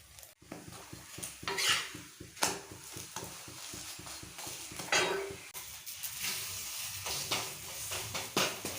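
Roti batter frying on a tawa in refined oil and spread with a spoon, giving soft sizzling with repeated scraping and clinking of the spoon against the pan in an uneven rhythm, close by.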